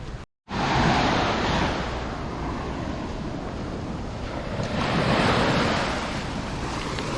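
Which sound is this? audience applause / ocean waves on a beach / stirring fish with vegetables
ocean waves on a beach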